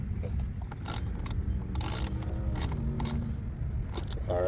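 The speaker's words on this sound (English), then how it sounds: "So yeah, just bolt it back up the way you took it apart." Jeep aftermarket intake tube being bolted back on, with close, quick ratcheting clicks and metallic tool noises in short bursts over a low background hum.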